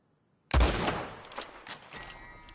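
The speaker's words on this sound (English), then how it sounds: "Put another shot in close" A gunshot in the video game Red Dead Redemption 2 cracks out loud and close after a brief silence, followed by a rolling echo and a couple of fainter trailing reports.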